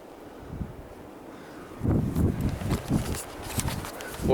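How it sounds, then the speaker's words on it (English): Wind buffets the microphone outdoors at an abandoned RAF station in Scotland, low rumbling gusts that start faint and then swell into several stronger thumping bursts. "Sorry for the wind if it's getting windy."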